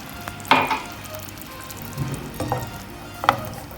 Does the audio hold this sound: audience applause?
no